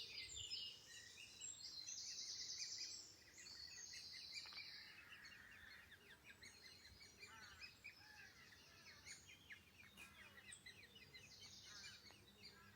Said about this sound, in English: young green woodpeckers in a nest up there somewhere, maybe.